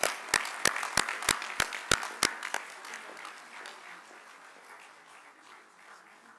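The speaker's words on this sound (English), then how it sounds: "Big round of applause for them" Scattered claps from a conference audience, a few sharp slaps close together at first, then thinning into a soft, fading patter of applause across the hall.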